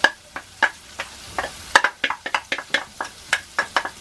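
Red onion sizzling in a pan on the Corsican, with sharp repeated scraping and stirring clicks of a utensil over a soft frying hiss, close and fairly loud.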